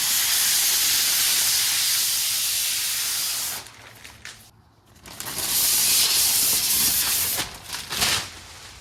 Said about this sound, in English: now it's time for the satisfying part of peeling the film off of it